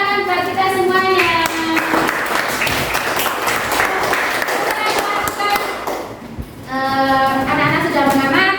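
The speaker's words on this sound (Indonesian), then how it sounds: "Oke, tepuk tangan buat kita semuanya" Children in a classroom clap together in a burst of applause, with voices heard speaking and calling out before and after the clapping.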